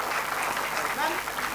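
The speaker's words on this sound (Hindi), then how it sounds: "जोरदार तालियां होनी चाहिए" Festival audience applause, a steady wash of clapping from a crowd that holds at an even level throughout, with voices mixed in underneath.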